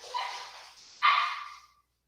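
A dog barks twice in quick succession indoors, each bark close and loud, with the second sharper than the first before the room falls quiet.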